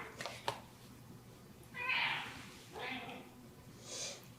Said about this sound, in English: The cats are probably going to be making noises this whole time